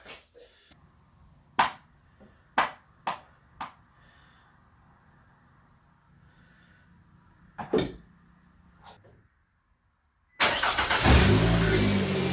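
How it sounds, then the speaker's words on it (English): Several scattered metallic clanks and knocks in a quiet space, then a 2005 Nissan Altima engine turns over and runs loudly and steadily until the end. "That engine sounds good."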